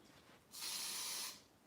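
A single hissing blast from a spray can, aimed at an earwig on a wall indoors, lasts under a second and is loud and close, with near silence before and after.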